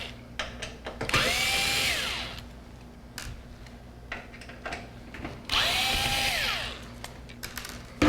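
Electric screwdriver removing screws from a computer's DVD drive during an upgrade and repair, two loud whirring bursts with rising then falling pitch, separated by quieter clicks and handling noise.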